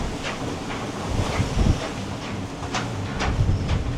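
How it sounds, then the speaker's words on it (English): Strong wind buffets a hybrid electric sailing catamaran beating upwind at sea in about 23 knots of apparent wind, a steady close roar with gusty swells and no talk. "we're 23 knots of apparent wind, beating right into it"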